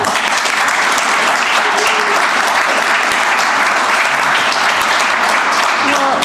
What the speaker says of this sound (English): So we'll give these retirees right here one last round of applause.